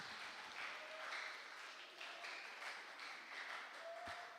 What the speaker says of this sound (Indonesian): Ada tepuk tangan buat diri kalian masing-masing.